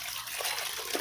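Water splashes and trickles over leafy vegetables being rinsed in a basin, a soft, brief, continuous wash of liquid sound.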